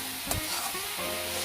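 A spoon scrapes and stirs jaggery in a pan over a low gas flame, with one clear scrape early on over a gentle continuous sizzle, heard up close and without speech.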